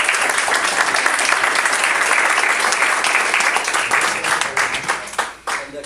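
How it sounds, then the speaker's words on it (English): An audience at an annual meeting applauds the board of directors, a dense, sustained burst of many hands clapping that thins and fades out near the end. "a round of applause"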